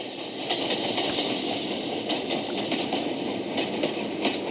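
A train rumbles along at close range with a steady rushing roar and faint rail clatter, gradually losing speed without stopping.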